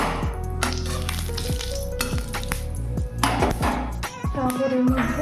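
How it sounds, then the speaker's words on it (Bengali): Two bay leaves and three cardamom pods tempering in hot ghee for carrot halwa, a close sizzle broken by clinks and scrapes of a utensil against the pan. "এবার ওই ঘিয়ের মধ্যে 2টো তেজপাতা আর 3টে এলাচ ফোড়ন দেবো।"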